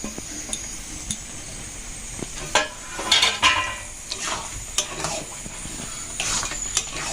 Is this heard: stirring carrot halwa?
yes